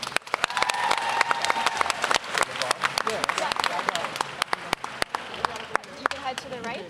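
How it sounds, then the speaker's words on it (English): Round of applause from a university convocation audience greeting new staff and faculty, dense steady clapping throughout with crowd noise and some talk mixed in. "another round of applause to your new staff and faculty"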